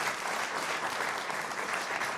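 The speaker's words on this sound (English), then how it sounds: "Give them another round of applause." Applause from the audience at a Blue Springs city council meeting, a steady, broad wash of many hands clapping together, even and continuous throughout.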